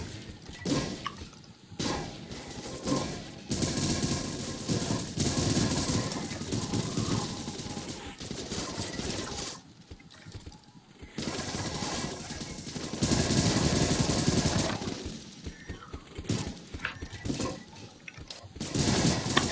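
Video game gunfire with explosive bullets roars in long, dense bursts separated by brief pauses, loud and continuous through most of the stretch.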